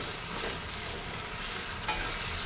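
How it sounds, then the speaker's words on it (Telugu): A spiced mixture fried in a pan after a few minutes covered is stirred, giving steady sizzling with scraping and stirring noises throughout, close and alone. "తీసుకొని ఒకసారి కలుపుకుందాం."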